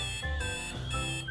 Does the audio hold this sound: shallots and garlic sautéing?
no